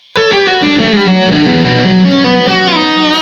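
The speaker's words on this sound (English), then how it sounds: "the first one I would grab would be my Gemini distortion pedal" An electric guitar played through an Ibanez Gemini distortion pedal plays a heavily distorted melodic riff, the fuzzy sustained notes loud and close, starting abruptly after a brief silence.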